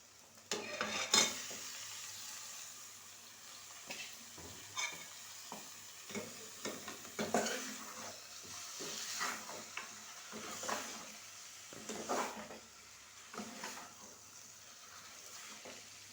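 Chicken frying in a pan after ginger has browned, a soft continuous sizzle broken by irregular scraping and clinking stirs of a spoon, close by and without talk.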